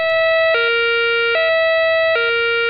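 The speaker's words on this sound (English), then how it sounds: "a special COMAR alarm will be sounded if there's a danger to the public" A COMAR major accident alarm siren at an industrial site sounds a steady multi-tone electronic wail that drops to a lower pitch in three short, evenly spaced dips, loud and alone.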